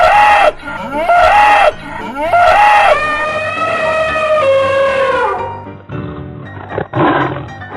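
Several loud, close cartoonish animal calls, a string of short bellowing cries followed by a long drawn moo from a cow in a children's animal cartoon, then trailing off into quieter rumbles.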